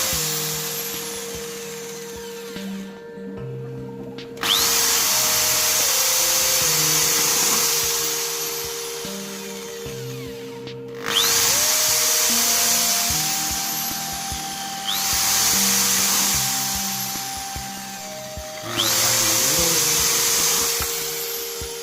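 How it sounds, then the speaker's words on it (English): A power drill whines in long bursts as it bores into a plastic bottle, its pitch stepping up and down, with short pauses between runs. "I just use a drill."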